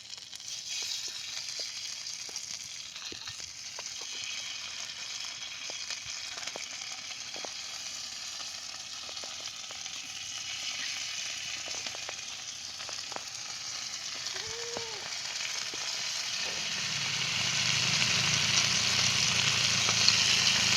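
Mandeli fish frying on an oiled hot tava griddle, a steady broadband sizzle lasting throughout with a few soft taps, growing louder and fuller near the end as more fish go in; no talking.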